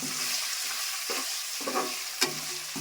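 Okra pieces with salt and turmeric stirred in a hot pan, a soft sizzle carrying through with several scraping strokes of the spatula and one sharper clack near the end, close and without talk.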